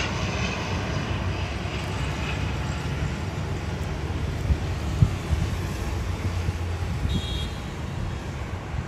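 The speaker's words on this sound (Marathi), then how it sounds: "आसावरीचं विमान होतं त्यामुळे छान रेकॉर्ड झालं देहरादूनच्या एअरपोर्टला." An airplane at Dehradun airport gives a steady, fairly loud engine roar that fills the whole stretch, with some wind buffeting on the microphone and no voices.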